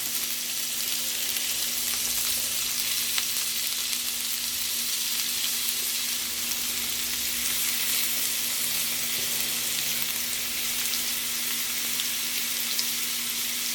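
Meat stirred in a hot pan, a steady close sizzle and fry hiss running unbroken throughout, with faint scraping from the stirring.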